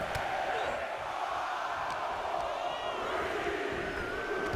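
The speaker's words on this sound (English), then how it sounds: "The crowd is counting it down." Dense wrestling arena crowd noise from WWE 2K23, a steady roar of many voices chanting and counting down together, loud and continuous throughout with no gaps.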